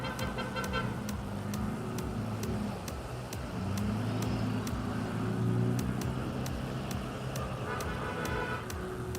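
A Kia pace car drives past at a race, its engine rising and fading as a steady road rumble with a repeated ticking underneath, fairly loud and continuous.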